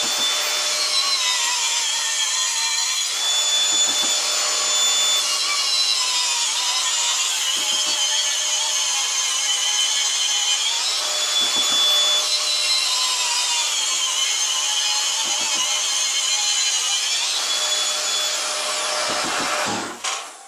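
A Makita cordless grinder chases a groove in a wall while a Makita vacuum runs alongside, fed through a Makita dust shroud. A continuous high whine and rushing suction hold steady at close range, with brief dips and a cutoff at the end.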